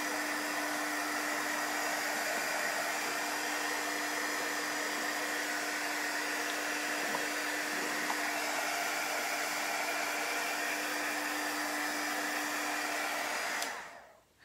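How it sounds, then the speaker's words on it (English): A hair dryer blows steadily at close range, a loud continuous whoosh with a constant motor whine drying chalk paste, running alone for about fourteen seconds before switching off. "Let's just dry this paste real quick."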